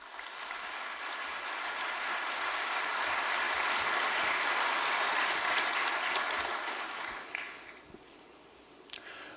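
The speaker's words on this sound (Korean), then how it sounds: "우리 사랑의 박수로 환영하겠습니다." At a special dawn prayer service, a church congregation applauds to welcome the pastor with sustained clapping from the whole room. The applause swells, holds steady for several seconds, then thins out and fades near the end.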